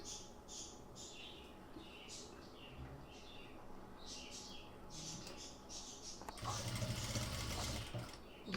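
A sewing machine stitches a sleeve on a churidar top or kurti, its quiet, steady whir running throughout at low level, with faint background chirps and a louder, brighter burst of running near the end.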